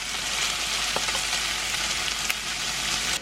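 Pork belly pieces sizzle in a frying pan with a dense, steady crackle of hot fat and a few small pops, close and continuous, with nobody speaking.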